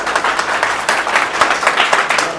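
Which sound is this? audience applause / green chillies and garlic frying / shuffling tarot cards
audience applause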